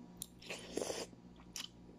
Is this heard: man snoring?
no